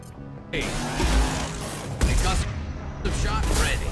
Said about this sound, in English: Had to get away from that explosion, boy.